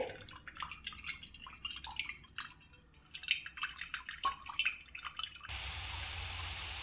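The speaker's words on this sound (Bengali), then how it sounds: "এবার আমি ছেঁকে নেব তেঁতুলের পালটা আমি ছেঁকে নিচ্ছি কড়ার মধ্যে" Tamarind pulp strained into a pan (kadai) while making chutney for papdi chaat, giving soft wet drips and trickles with scattered splashes, close and fairly quiet, followed by a steady running-water hiss at the end.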